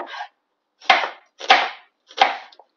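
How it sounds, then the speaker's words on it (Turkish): A knife thinly slices a dry onion on a cutting board while preparing a mushroom sauté: four crisp, evenly spaced chops, close and fairly loud, with silence between strokes and no talking. "Kuru soğanımı ortadan ikiye bölüyorum."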